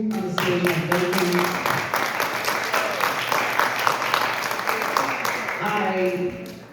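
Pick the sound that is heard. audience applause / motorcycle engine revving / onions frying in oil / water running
audience applause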